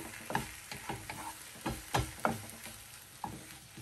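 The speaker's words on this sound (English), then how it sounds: "So now I'm going to check on my spinach. I'm just going to mix it." Spinach in a frying pan being mixed with a utensil, soft rhythmic scrapes and taps over a faint sizzle, close and fairly quiet with no voices.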